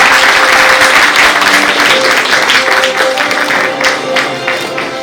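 Sustained audience applause at a leadership awards ceremony, loud and continuous clapping from a crowd across the whole stretch, with faint voices underneath.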